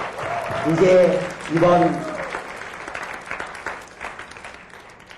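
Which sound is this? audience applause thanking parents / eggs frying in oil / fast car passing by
audience applause thanking parents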